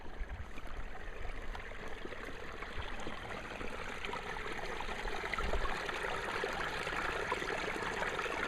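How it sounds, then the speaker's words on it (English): A stream runs past a grist mill, trickling and gurgling in a steady outdoor wash. The water stays soft and continuous at close-to-middle distance with no voices. "that sound is so sweet of running water."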